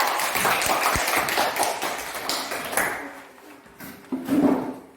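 A class of students applauding a group's presentation, a dense wash of clapping that fills the first few seconds, then thins into scattered claps, and finishes with a short louder burst.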